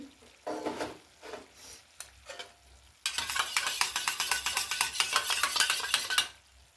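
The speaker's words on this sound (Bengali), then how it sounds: "এই যে এর মধ্যে আছে soya sauce, chilli sauce, tomato sauce, সব 1 চামচ করে আছে। এটা একটু জল দিয়ে গুলিয়ে নিচ্ছি।" Soy, chili and tomato sauces are stirred with water, starting with a few scattered scrapes and knocks, then a rapid run of rhythmic spoon-on-bowl clinking and swishing for several seconds, close and fairly loud.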